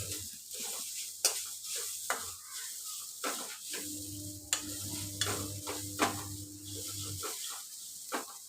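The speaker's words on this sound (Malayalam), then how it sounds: "തീ കുറച്ച് വെച്ച് വേണം വറുക്കാൻ." Grated coconut dry-roasting in a pan over a low flame for coconut chammanthi podi, scraped by a spoon in irregular strokes over a soft, steady sizzle, close and alone with no talk.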